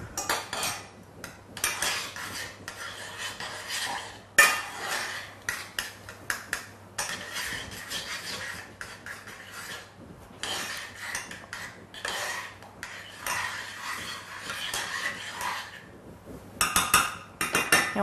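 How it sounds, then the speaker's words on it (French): Melting pieces for a chocolate fondant being stirred in a pan, repeated bursts of utensil scraping and rubbing against the metal with occasional clinks, close and intermittent over a low hum. "je vais le mélanger un petit peu parce qu'il y a des morceaux qui fondent"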